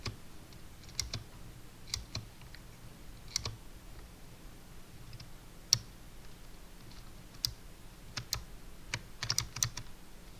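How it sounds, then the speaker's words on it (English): A new mechanical keyboard clicks away in close, quiet typing, with bursts of crisp keystrokes in an uneven rhythm against a low steady hum, no voices. "Sorry for the weird clicking noise, that's my new mechanical keyboard."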